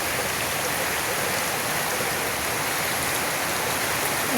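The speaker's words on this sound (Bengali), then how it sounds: "মনে হচ্ছে অনেকক্ষণ বৃষ্টি হবে আজকে" Steady rain falls during a long cloudy spell, a dense, even hiss of drops on surfaces that stays constant and close throughout with no voices.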